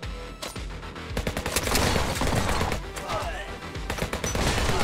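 Rapid gunfire from the HyperParasite video game comes as dense bursts of close, loud shots over a busy game soundtrack. The firing is steady, with brief pauses between volleys.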